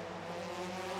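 A TCR Asia touring race car at Bangsaen, Thailand in 2018 roars past toward the checkered flag, a brief sustained engine drone at steady volume.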